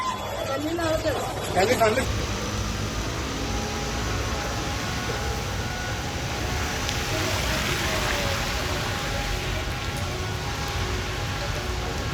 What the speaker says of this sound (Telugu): హైదరాబాద్ లో ఏకదాటిగా వర్షం కురుస్తుంది నిన్న సాయంత్రం కుండపోత వర్షం కురుస్తుంది